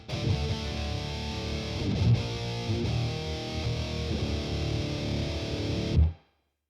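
Electric guitar played through a Boss Katana amp on a distorted 80s-style patch with delay and reverb removed, a sustained overdriven chord texture with a few accented strums, ending abruptly.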